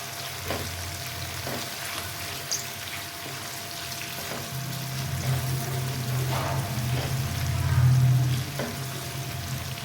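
Chopped onion fries in a pot until browned, a soft steady sizzle with occasional stirring scrapes and a louder bubbling swell near the end, heard alone without talk.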